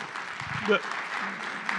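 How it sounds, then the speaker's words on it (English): A conference audience applauds briefly, a soft, steady patter of clapping from a large room with faint voices mixed in. "a little round of applause"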